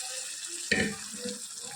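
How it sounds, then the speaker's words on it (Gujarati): Soaked dal lentils are tipped into a pan of hot cooked masala, producing one sudden splashing sizzle burst that quickly fades into a faint, low continuing sizzle. "હવે આપણે અંદર દાળ નાખી દઈએ."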